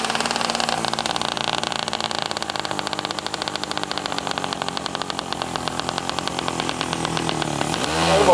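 Old Saab two-stroke car engine from Trollhättan running close by, with a loud, steady, rapid buzzing putter throughout that swells in revs near the end.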